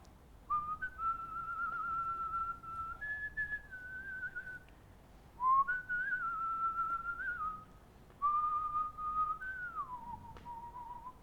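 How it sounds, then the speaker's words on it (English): Someone whistles a melody in three clear phrases, sustained notes with pitch steps, close and clean against near silence. "whistling to the tunes of songs"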